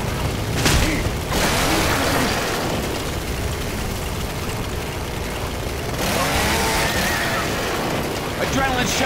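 Weapon reloading in the zombie shooter Left 4 Dead 2, with mechanical clicks and ratcheting clacks amid dense gunfire and game noise, loud and busy throughout.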